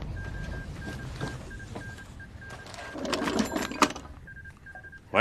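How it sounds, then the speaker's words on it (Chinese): A military field telephone at a Xubeng battlefield command post rings with short repeated electronic tones in an intermittent pattern. A burst of clatter and noise breaks in midway before the tones resume. "给前阵地打电话，问问发生了什么事"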